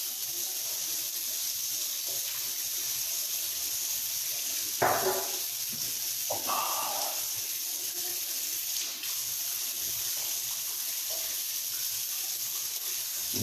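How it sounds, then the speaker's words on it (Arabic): A kitchen tap runs in a steady hiss while cups and a spoon are washed, with a few brief clinks and splashes breaking through midway. "نغسل الكوبايات والمعلقة"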